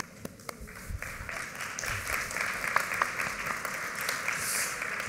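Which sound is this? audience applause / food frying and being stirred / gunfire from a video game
audience applause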